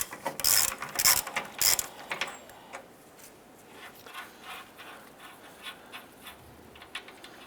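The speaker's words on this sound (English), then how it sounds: "We're going to use our deep socket and our ratchet. And I want to go ahead and loosen these." A ratchet with a deep socket loosens the front lower control arm bolts on a 2015-2020 Cadillac Escalade. Three loud, close bursts of rapid clicking come first, then softer, scattered clicks trail off as the bolt turns free.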